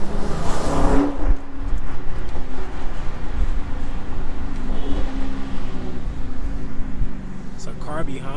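A car drives close behind in heavy downtown Chicago traffic, its engine and road noise steady and loud under voices inside the vehicle.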